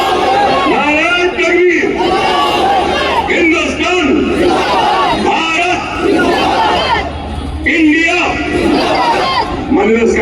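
A large political rally crowd roars back in unison, loud and close, with repeated swelling shouts following a call-and-response chant at an election speech, waves of massed voices filling the whole stretch.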